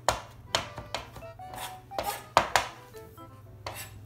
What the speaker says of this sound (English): We're chopping up a little bit of the tarragon.